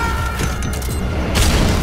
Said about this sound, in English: And we're hit by a stun grenade.